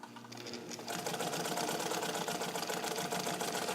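Restored vintage all-metal Necchi BU Nova class 15 sewing machine stitching and back tacking, a steady rapid mechanical whir that starts softer and then runs loud and continuous, alone without talk.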